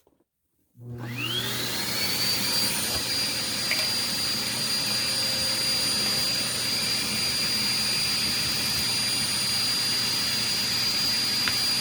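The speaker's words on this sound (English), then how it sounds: "I have other filters, but let's see if I can manage to vacuum that off." A SEBO vacuum cleaner switches on after a brief silence and roars steadily with a high whine while cleaning a cold air return filter in a two-story house, loud, close and continuous.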